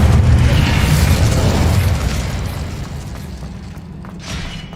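An Incendio fire spell bursts in Hogwarts Legacy as a loud, close fiery blast that rumbles and crackles, then slowly fades over a few seconds.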